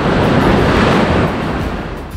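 Loud, close surf rolls continuously at Praia do Cachadaço, a beach in Trindade near Serra da Bocaina National Park, a dense roaring wash with some wind buffeting the microphone.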